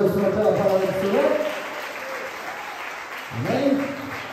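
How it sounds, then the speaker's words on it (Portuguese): A church congregation at a retreat applauds, a steady wash of clapping with voices rising over it at the start and again near the end, carrying on at moderate loudness throughout. "Você pode aplaudir o Senhor pela palavra do Senhor?"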